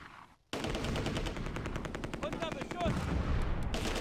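German machine guns lay down heavy suppressing fire around Arnhem Bridge in the Close Combat: A Bridge Too Far wargame, a loud sustained rapid burst of evenly spaced shots over battle din, starting abruptly after a brief quiet moment.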